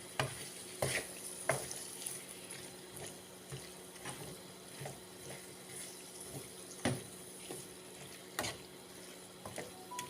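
Beans frying in a pan while being stirred, with soft scraping strokes and light intermittent taps recurring every second or so over a low steady hiss, moderately quiet and close, with no talking.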